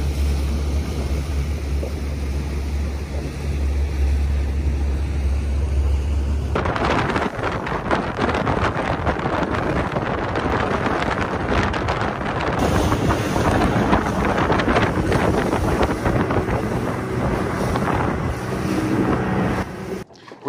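Prime boat with a single outboard engine running on open water, a continuous roar mixed with heavy wind buffeting against the microphone and rushing water noise, steady throughout.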